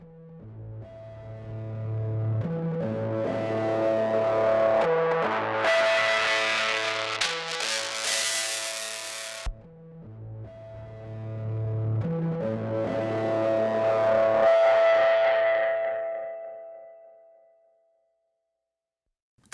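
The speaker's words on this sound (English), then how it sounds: "Just a cool distortion track coming through." A heavily distorted instrument line with effects in a multitrack recording session, two swelling phrases of buzzy, saturated tone separated by a brief dropout, ending in silence.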